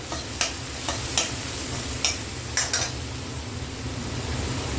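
Ginger and garlic sauté in a hot pan for fish kurma, a steady close sizzle broken by several sharp scraping clicks of a spoon stirring against the pan, with no one talking.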